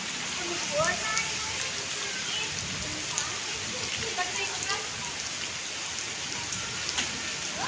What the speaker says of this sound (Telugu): వాన అయితే ఫుల్ జోరుగా వస్తుంది ఫ్రెండ్స్